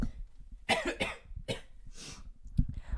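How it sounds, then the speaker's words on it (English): Several sharp coughs from an ill man burst out in quick succession, close and fairly loud into a Fifine K670 microphone, with brief pauses and breathing between them. "I apologize about sniffling and coughing and all that stuff."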